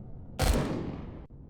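A single heavy blast from a ship's guns in Empyrion Galactic Survival, a sudden booming burst that rumbles and hisses for nearly a second before cutting off abruptly, with no voices.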